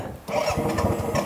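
A motorcycle engine on a winter road trip in Spiti cranks and catches briefly before stalling, a rough, sputtering mid-pitched rumble that surges for about a second, close and fairly loud, with no speech over it.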